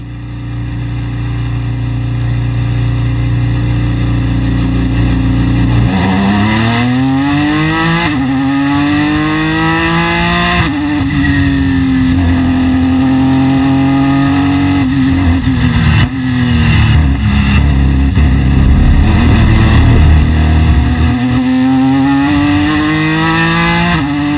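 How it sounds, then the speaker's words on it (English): A 2016 Ford GT race car at Le Mans accelerates hard away from the pit box, its engine loud and close, climbing through gears in repeated rising sweeps with brief shift drops, alone without talk. "As I accelerate away from the pit box, I just want to get into a rhythm."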